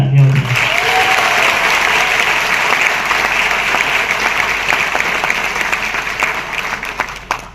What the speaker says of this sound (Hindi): प्लीज एक बार उसके लिए भी तालियां हो जाए